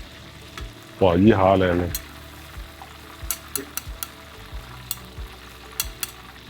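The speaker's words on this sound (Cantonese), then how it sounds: "呢啲都屬於生炸啫，係嘛？" Chicken wings deep-fry in hot oil with a steady low sizzle and scattered sharp pops and crackles. A person speaks briefly near the start.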